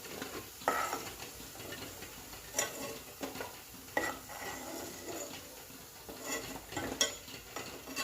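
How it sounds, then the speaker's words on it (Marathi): Instant-mix gulab jamun frying in hot oil, with a steady soft sizzle under scattered scrapes and light clinks from stirring in the pan, close and moderate in volume, no talking. "आता असेच आपण सगळे तळून घेणार आहोत।"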